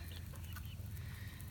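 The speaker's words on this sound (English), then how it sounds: "That's my other rooster." An Easter egger rooster in a backyard chicken flock clucks softly a few times, faint and close, with steady low background noise.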